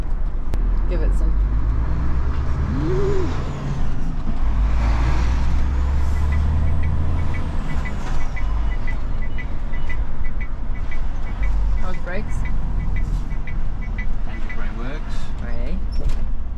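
A lorry tractor unit's diesel engine revs up and pulls away, loud and close, with a rising tone near the start, an air brake hiss, and people talking over it inside the cab.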